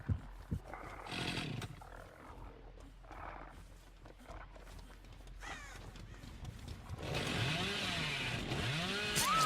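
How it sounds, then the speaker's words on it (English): The Hillbilly's chainsaw revs in Dead by Daylight, with repeated rising and falling engine roars that build to a loud, sustained snarl near the end, over game music and growling sounds. "he's trying to get a long distance chainsaw on her."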